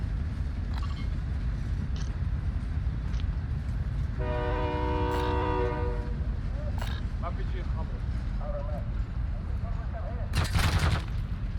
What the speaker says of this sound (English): Well, then we just ride the train a short while.